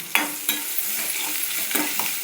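Chopped onion hitting hot oil with mustard seeds and asafoetida in a pan while cooking a ginger potato poriyal, giving a steady sizzle with a few sharp bursts and stirring clatters, close and alone.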